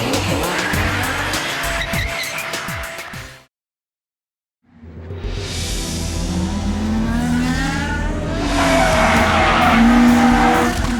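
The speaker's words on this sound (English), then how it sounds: "It's a black GTR. That's a serious car." A black Nissan R32 GTR races on a mountain road, loud engine and squealing tires sliding through corners, cutting out briefly to silence before the revving and skidding return even louder.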